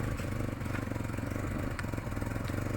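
A Chevrolet car engine idles high at about 1500 rpm, making a steady, close, throbbing mechanical rumble with no break over the few seconds.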